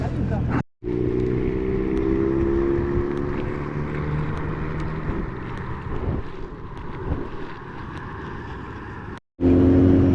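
A loud, steady engine drone with a deep exhaust rumble from an Opel Calibra, wind buffeting the microphone throughout, briefly cutting out near the start and end.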